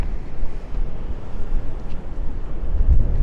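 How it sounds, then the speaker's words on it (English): Strong wind on a seaside promenade at night in Cleveleys: continuous low rumbling buffeting against the microphone, gusting and swelling toward the end, no voices. "I hope you can hear me because that wind is really strong"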